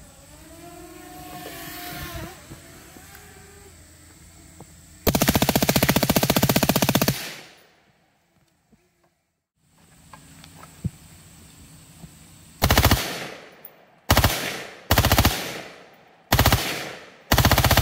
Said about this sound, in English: full auto machine gun